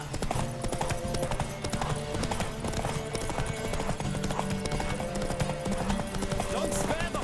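Galloping hooves pound steadily through a horse race in the video game The Witcher 3, the fast clip-clop loud and continuous while voices call out over it.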